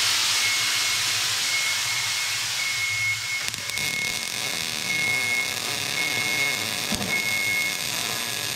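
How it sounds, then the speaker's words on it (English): Welding on a bracket made to hold hoses on the back of a tractor gives a loud, continuous hiss and crackle, close and steady throughout, with a faint intermittent tone. "That's a good way to watch weld there."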